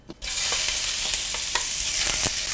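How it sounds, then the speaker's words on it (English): Shrimp sizzle loudly in a hot oiled pan. A steady frying hiss starts abruptly and carries on, with faint stirring ticks and crackles through it. "put a little bit more oil in, just swirl it around a little bit, and then put your shrimp into the pan"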